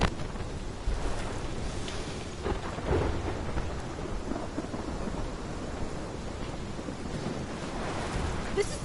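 Thunderstorm in the Life is Strange video game: a steady roar of heavy rain with rolling rumbles of thunder, dense and continuous throughout.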